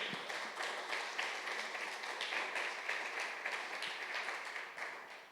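Church congregation applauding a preacher's call, a dense, even wash of many hands clapping that rises and continues steadily for several seconds, moderately distant.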